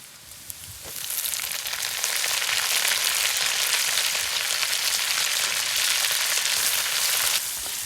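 Mung bean sprouts drop into a hot pan with pork and aromatics, and a loud, dense, steady sizzle swells after a second and holds until near the end.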